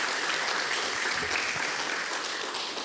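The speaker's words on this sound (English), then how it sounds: "So a big round of applause for George again." Steady, dense applause from a conference audience in the main auditorium at PyCon Greece 2025, filling the room continuously and evenly for the whole stretch with no voices over it.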